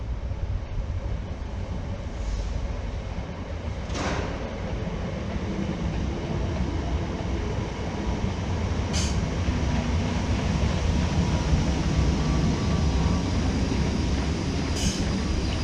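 British Rail Class 319 electric multiple unit pulling out of a depot, a steady loud rumble of wheels and traction running throughout, with occasional brief high squeals or clicks standing out over the continuous rail noise.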